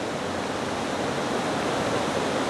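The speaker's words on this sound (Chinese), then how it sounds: "一旁的溪水还夹带着滚滚泥流宣泄而下，奔腾的水势已经淹过现有的河道" Muddy mountain stream water rushing down in heavy rain, a dense, steady roar of torrent close by, unbroken for the short span, with no talking.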